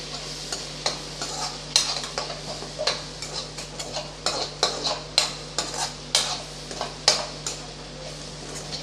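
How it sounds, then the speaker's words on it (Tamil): Scrambled egg with masala stir-fried in a pan for egg rice, with a spatula scraping and clinking in a quick, regular rhythm over a low sizzle, close up with no voices. "இப்போ மசாலாவோட சேர்த்து நம்ம வதக்கி விட்டுறலாம் எல்லாத்தையும்."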